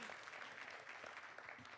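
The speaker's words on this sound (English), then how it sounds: "And yeah, keep applauding." Applause from a panel-session audience, a dense steady patter of many hands clapping throughout, fairly quiet and without a break.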